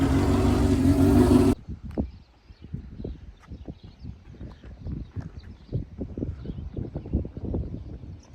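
A 1979 Kawasaki KZ650 motorcycle idles close by with a lumpy stream of low, uneven thumps after a brief loud burst at the start.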